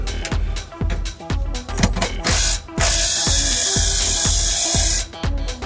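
Repeated bursts of a power drill whirring and ratcheting close by as it loosens bolts on a hallway air handler, short pulses with brief pauses, then a longer sustained run before a few more quick bursts.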